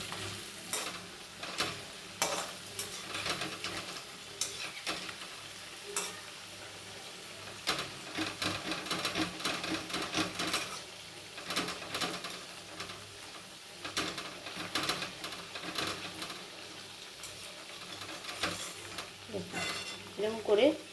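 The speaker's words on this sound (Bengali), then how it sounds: "এরকম করে লাল করে ভাজতে হবে।" Round pieces of chhana frying in a pan until reddish, giving a steady sizzle with frequent scraping and stirring clatter throughout, close and continuous, with no talking.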